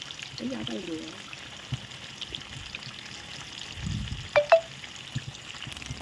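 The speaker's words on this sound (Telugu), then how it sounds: "ఇప్పుడు రెండో సైడ్ కూడా ఫ్రై చేసుకుంటున్నాను" Marinated fish frying on its second side in a hot pan, Kerala style, giving a steady low sizzle under faint background hiss with a couple of brief clinks near the end, no talking.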